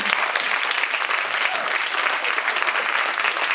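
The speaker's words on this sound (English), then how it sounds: "let's have another applause for all of them" Applause for volunteers at a community group's monthly meeting, a steady, dense clapping from a seated audience that fills the room at full volume and carries on without a break.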